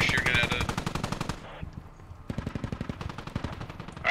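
Automatic gunfire in the military shooter game Squad: loud, rapid machine-gun bursts, a brief pause, then another sustained volley, heard up close with faint radio-style chatter mixed in.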